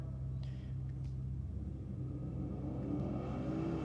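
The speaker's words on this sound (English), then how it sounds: "it's a great night for drag racing here at Sydney Dragway" A drag racing car's engine rumbles steadily at Sydney Dragway at night, a low continuous drone with a slight rise in revs toward the end, heard from a distance with no talk.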